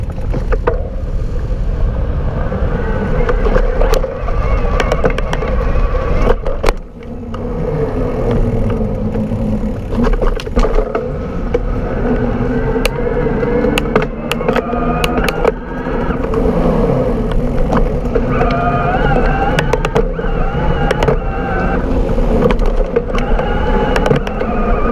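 Fuji Ambient 27.5+ electric mountain bike on fat tires rides in turbo mode, its motor whining steadily beneath loud wind rush and rolling tire noise, with a brief dip in the drone partway through.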